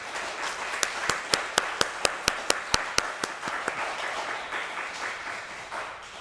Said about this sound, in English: join me now in giving Scott a grateful round of applause